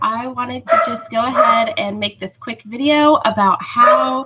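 A dog barks in the background of a home recording, partly masked by a person talking steadily over it.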